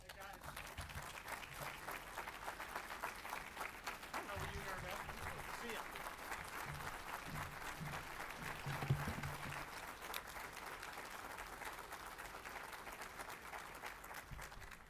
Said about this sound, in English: it's always good to get applause before the speech